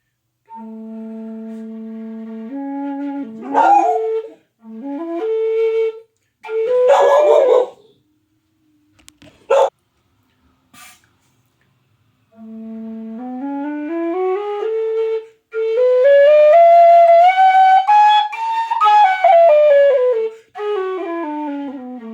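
A low D Copeland tin whistle plays sustained breathy notes with pauses and short test blasts, later gliding up through a run of notes and back down.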